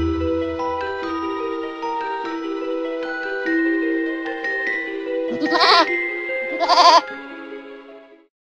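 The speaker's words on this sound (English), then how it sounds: "Stand still, you stupid goat." Goat bleating twice near the end, loud wavering cries over a bright, light musical backing.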